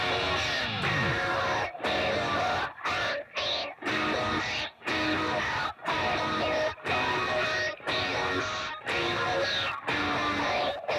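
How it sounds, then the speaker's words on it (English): Heavily distorted electric guitar riff in half-step-down tuning, loud and dense, with struck chords chopped into rhythmic bursts separated by brief gaps, played alone with no talking. "Here is my guitar tone for this part."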